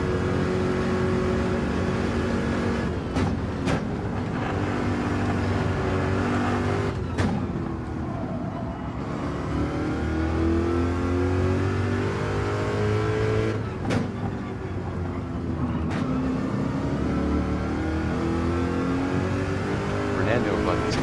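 Corvette and BMW race car engines in Gran Turismo roar continuously at high revs for the whole stretch, with pitch sweeps as the cars shift and accelerate, and a few sharp clicks or bumps; commentators talk over the engine noise.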